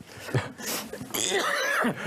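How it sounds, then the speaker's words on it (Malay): A sharp, explosive cough close to the mic, followed by a rough, throaty exhale. "Maaf saya batuk."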